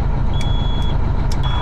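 A Kenworth K100 truck engine idles with a steady, loud low rumble, with faint beeps and clicks over it.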